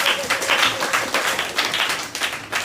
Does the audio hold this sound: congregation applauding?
yes